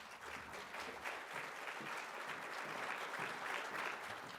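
Steady audience applause for award winners at an awards ceremony, a continuous wash of many hands clapping, fairly distant and even in level.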